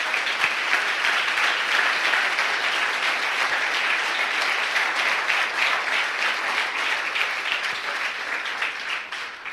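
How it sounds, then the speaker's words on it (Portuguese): Sustained applause fills the room as a church congregation honors the pastor's wife, a dense, steady clapping that holds strong throughout and eases only slightly at the end, with no voices breaking through. "A gente vai estar honrando você, meu amor, com uma salva de palmas."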